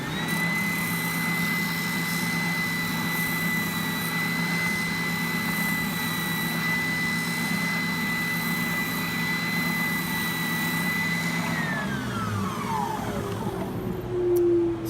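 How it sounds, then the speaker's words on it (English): A sander and dust collector run steadily while a guitar bridge is shaped, giving a continuous loud motor whine and airflow roar that winds down near the end. "I'm going to turn my sander on, and first I'm going to turn on my dust collector here."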